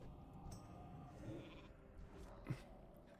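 A sheep bleats faintly during World of Warcraft Classic gameplay, a mage's polymorph turning an enemy into a sheep, with two short bleats heard under low game background noise.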